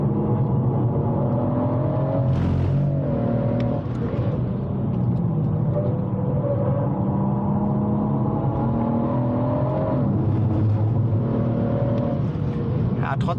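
A BMW M140i is driven hard on a race track, its engine droning steadily and loud throughout with rising and falling revs, heard from inside the car while someone talks over it.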